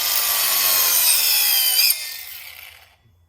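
A cordless lithium angle grinder cuts a hole through wood with a loud, high rasping whine that holds for about two seconds, then drops away as the tool spins down to silence.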